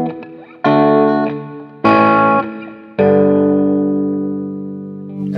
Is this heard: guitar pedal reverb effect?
yes